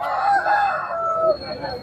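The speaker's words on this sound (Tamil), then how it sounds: "பயங்கரமாக ஒரு சேவல் இருக்குது" A rooster at a country chicken market in Nangavalli crows a long, loud call that rises and trails off, with faint market murmur underneath.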